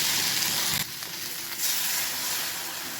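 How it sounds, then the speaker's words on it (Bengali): Vegetables and lentil dumplings (bori) sizzle loudly as they are sautéed with spices for a winter-vegetable fish curry, a steady close frying hiss with a brief dip in the middle and no talk. "এই যে মশলার সঙ্গে কষিয়ে দিলাম"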